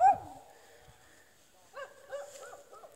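Several dogs yip and bark in short high bursts, one sharp cry at the start, then a cluster of overlapping yaps toward the end.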